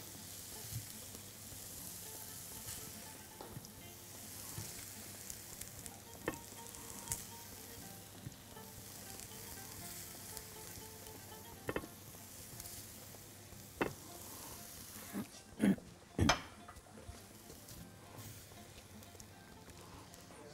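Chicken pieces fry in a pan with a steady, soft sizzle and crackle, broken by occasional louder pops and a few handling knocks near the end, with no one speaking.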